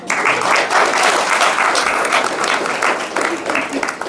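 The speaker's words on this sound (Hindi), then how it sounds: "हंसो, ताली बजा के हंसो।" Indoor audience at a spiritual course session clapping together, dense loud applause that runs continuously for the whole stretch and fades slightly near the end.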